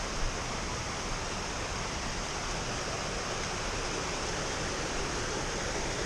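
Running water of a stream along the Appalachian Trail, a steady broadband rushing wash heard close and continuous with no pauses or voices.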